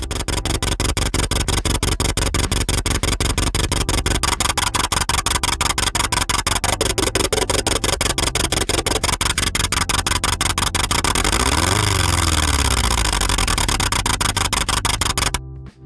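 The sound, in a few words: synthesized vehicle engine sound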